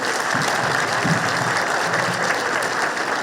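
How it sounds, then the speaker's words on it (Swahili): A crowd at a political event in Nakuru applauds a young girl, with steady, dense clapping that carries loudly throughout and a faint murmur of voices beneath it. "Tuhurire mwana ucio makofi."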